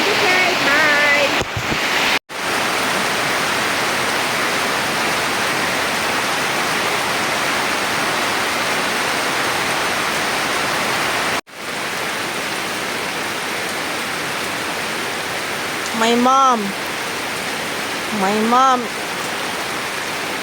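Steady heavy rain pouring down in a rural Philippine town, a dense continuous roar close by, with a brief voice and faint animal calls near the end.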